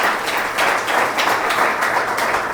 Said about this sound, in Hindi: हम चंदन जी के लिए जोरदार ताली बजाएंगे